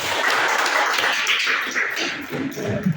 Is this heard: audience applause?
yes